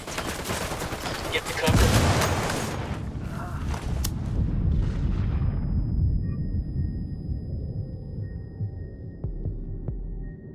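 Grenade blast and rattling gunfire in Ghost Recon Wildlands, a loud burst near the start followed by sustained shooting and rumbling that fades toward the end, with a voice shouting over it.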